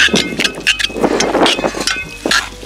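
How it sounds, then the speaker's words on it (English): Gusty UK wind buffets the microphone outdoors in low rumbling bursts while burgers are made on a smoker, with faint clattering and scraping sounds underneath. "Apologise for the wind."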